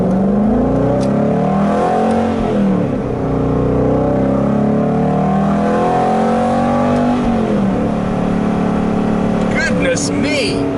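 Aston Martin GT8 engine in a racing video game, a loud continuous growl with pitch rising and falling as it revs, heard up close throughout with someone talking over it.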